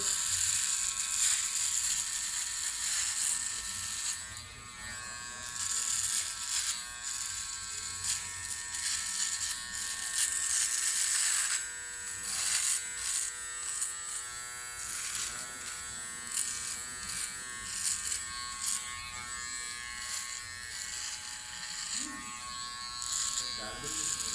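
A Powertec TR-1058 or TR-1158 electric hair trimmer buzzes continuously at close range, a bright mechanical whine that shifts as it cuts, with someone talking over it throughout.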